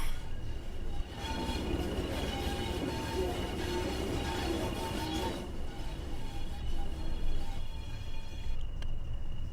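A miniature railway train runs steadily at Dresden Park, a continuous faint rumbling with wheel and track noise and a few steady tonal whines, carrying on without pause before easing near the end.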